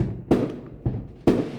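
Fireworks going off outside, three heavy booming thuds about half a second apart, each with a rumbling tail, heard from indoors at moderate distance with no talking.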